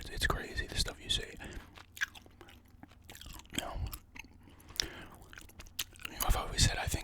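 Gum chewed close to the microphone, with wet, smacking mouth sounds repeating irregularly while a soft whispering voice talks quietly underneath.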